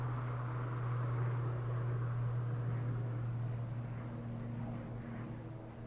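Aircraft EI169 arriving at Dublin Airport from Heathrow, a steady low engine drone with a strong tonal hum, loud and continuous throughout and fading slightly toward the end, with no talk.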